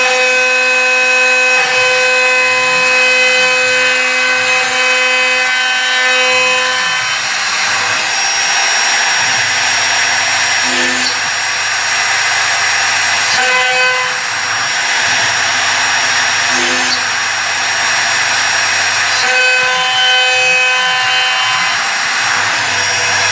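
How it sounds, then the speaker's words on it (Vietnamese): A CNC three-axis drilling machine works an aluminium bar, its whining motors and tonal hum rising and falling in repeated drilling cycles with brief sharp bursts, loud and close with no talking. "Máy khoan 3 chiều nên là nó sẽ tự động nó lật cây nhôm."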